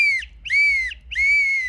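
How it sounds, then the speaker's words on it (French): A whistle blown in three long, steady bursts as a street alert signal, loud and close with short pauses between each blast and no voices. "If ICE is actively detaining someone, blow 3 long bursts."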